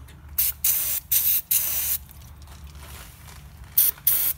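Brake cleaner is sprayed onto a rear brake caliper in several loud, close hissing bursts, some short and some held, separated by brief pauses.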